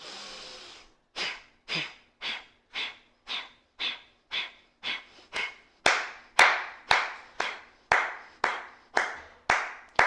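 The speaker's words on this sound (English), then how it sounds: "I'm clapping just to keep time for you" Sharp single hand claps keep a quick, steady beat for a breathing exercise during a meditation and flow session, each clap paired with a forceful breath, about sixteen in a row, close and clear.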